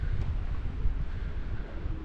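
Steady wind on a mountaintop at a fire lookout buffets the microphone with a low, rumbling roar, gusting unevenly throughout and no other sounds.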